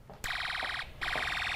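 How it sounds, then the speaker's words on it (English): A buzzer in a kids' electric circuit gives two short, harsh, steady electronic buzzes, close and fairly loud, with a brief gap between them. "and you'll hear a buzzer go and the light turn on."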